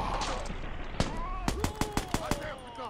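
ACR rifle fire in the video game Watch Dogs: after a single shot, a rapid, evenly spaced burst of about eight cracking rounds follows, close and loud over a faint game soundscape.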